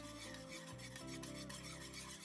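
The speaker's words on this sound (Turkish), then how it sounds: "Bir tatlı kaşığı dolusuyla Türk kahvesini sütümüz içerisine arkadaşlar sütümüzü güzelce karıştıralım" A spoon stirs a heaped dessert spoon of Turkish coffee into milk, giving a faint, steady rubbing scrape against the cup over a quiet tonal background, with no voices.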